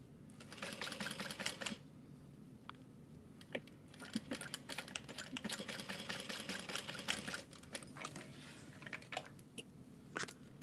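A sewing machine stitches a 3/8 inch seam on fabric, joining a strip to itself into a loop for a small Mini E bag; uneven runs of close, clattering stitching with short pauses between bursts.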